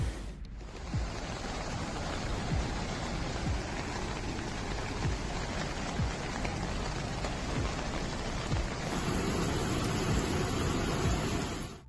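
Torrential rain pours down on the Greek island of Crete, a dense, steady hiss of water hitting surfaces that holds at the same heavy level throughout, with no voices.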